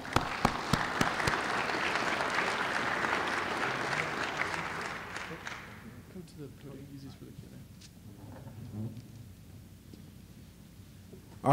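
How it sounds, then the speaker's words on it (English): Town hall audience welcoming the speakers with applause, a strong burst of clapping that fades after about six seconds, followed by quieter room noise and speech. "let's give a big round of applause for our speakers"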